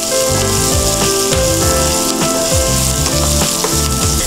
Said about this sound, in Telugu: ఉల్లిపాయలు వేగుతుండగానే ఇవన్నీ ఒకదాని తర్వాత ఒకటి వేసుకోవాలి